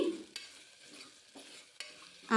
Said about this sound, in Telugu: ఇలా బాగా కలుపుకొని ఫ్రై చేసుకోవాలి.